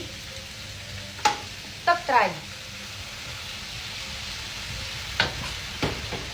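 Eel stir-fried hot in a wok with garlic, oyster sauce and palm sugar: a few sharp spatula scrapes and clanks against the pan over a low, steady sizzle, close by, with a voice speaking briefly.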